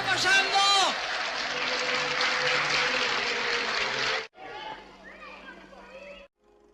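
Villagers in a small-town cinema audience cheer and applaud loudly for about four seconds, with voices mixed into the clapping, before it cuts to quieter film dialogue and sound.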